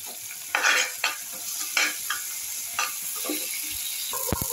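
Chopped tomato and curry leaves sizzle in mustard oil in a frying pan. A bright, steady hiss runs throughout, broken by several loud stirring scrapes and a few clinks near the end, with no talking.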